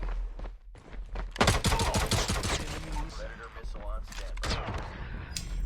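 Rapid gunfire from the Call of Duty Mobile video game in a team deathmatch, with dense bursts of shots and clattering effects amid game sounds, while a voice talks over the action.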